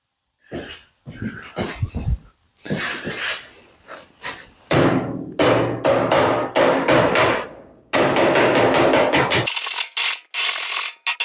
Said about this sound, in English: I think I'll jump on this now with a hammer dolly to see what I can do.